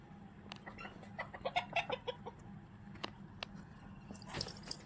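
Chickens cluck in short bursts nearby over a low steady hum, with a few sharp knocks scattered through.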